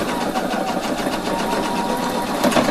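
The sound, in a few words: sewing machine stitching a waist facing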